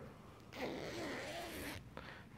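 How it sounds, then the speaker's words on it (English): The inner zipper of an adjustable pillow cover is drawn open in one steady, scratchy pull lasting about a second, quiet and close, followed by a faint click. "you can open up the inner zipper."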